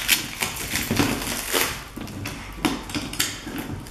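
A laser treatment machine's package is opened by hand, with a close run of crinkling, tearing and tapping noises as the packing is handled. No one speaks.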